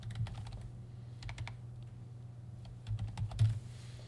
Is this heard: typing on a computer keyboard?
yes